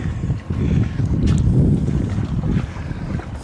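Wind rushing past a sailboat along the North Wales coast, a steady close buffeting roar with gusty rises and dips and low microphone rumble, no talking.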